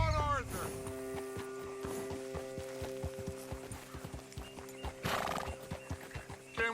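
Horses ridden in the Red Dead Redemption 2 video game, with steady clip-clop hooves, a whinny near the start and another burst later, moderately loud under background game sound.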